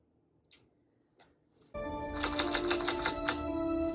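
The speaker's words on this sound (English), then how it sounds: "Typewriter." Rapid mechanical clacking and ticking of a typewriter being worked, close and steady, starting after a second or so of near silence with a few faint knocks.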